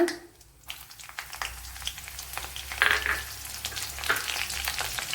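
Three or four dried red chilies and a cut green chili sizzle in hot oil with mustard seeds for a broken wheat upma, making a close, crackling fry with stirring scrapes and small pops.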